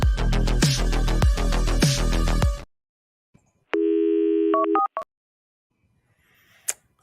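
A telephone system gives a loud, steady electronic tone, then breaks off into silence before a second shorter tone with a few stepped beeps, followed by faint clicks.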